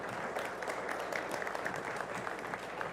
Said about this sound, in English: Let's go ahead and give our judge one more round of applause.